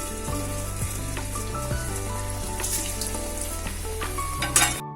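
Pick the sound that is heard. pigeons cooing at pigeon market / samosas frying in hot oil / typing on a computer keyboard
samosas frying in hot oil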